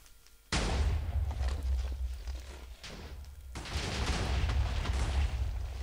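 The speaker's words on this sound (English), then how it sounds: "Fireworks!" Fireworks bursting in a video game: a sudden loud crack opens a dense run of booming, crackling explosions that ease briefly, then surge again into a second thick volley, continuous and close with no speech.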